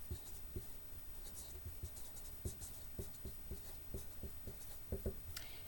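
A pen or pencil writing out a math formula, with soft, close, irregular ticks and scratches as strokes land on the page over a steady background hiss, with no voice.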